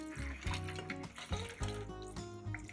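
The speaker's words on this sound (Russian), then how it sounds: "Закаточные крышки кладем в сотейник и заливаем водой." Water is poured into a saucepan holding metal canning jar lids, a steady splashing fill that runs the whole stretch under a tonal background.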